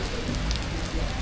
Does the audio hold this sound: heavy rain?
yes